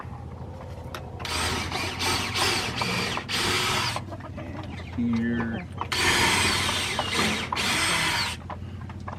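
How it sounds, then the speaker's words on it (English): A power drill whirs in two long bursts with a ratcheting mechanical buzz, close by, pre-drilling holes on a chicken coop, while people talk between and over the runs. "I've grabbed the drill. I'm gonna pre-drill right here."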